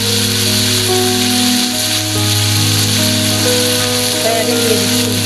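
Vegetables, egg, peas and potatoes stir-fry for a vegetable biryani, giving a loud, constant sizzle with a steady hum running under it.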